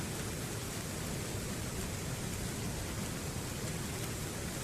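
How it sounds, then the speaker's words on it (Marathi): Steady, dense overnight rain hisses evenly throughout over village paddy fields, a continuous wash of falling water with no voices or other sounds. "काल संध्याकाळी 8 वाजेपासून जर पाऊस चालू आहे"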